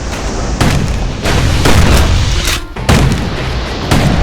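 Heavy booming gunfire from a security skiff's guns in the video game Bastion, loud close blasts repeating about once a second with no talk.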